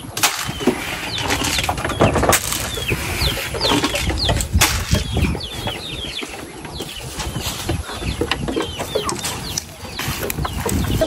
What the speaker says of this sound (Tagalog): Maraming manok at saka mga kanding.